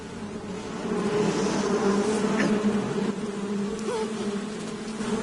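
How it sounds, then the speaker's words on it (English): Hornets buzzing in the stealth action game Metal Gear Solid 3: a steady, dense insect drone that swells slightly and holds at moderate loudness throughout, with no voices over it. "Oh no, not the bees."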